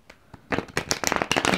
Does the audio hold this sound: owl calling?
no